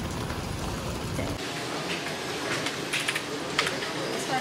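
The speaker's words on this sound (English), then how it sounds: "it started raining, so this was our plan B" Rain falling steadily outdoors in Seoul, a continuous broadband hiss of drops with faint scattered patters, fairly loud and unbroken throughout.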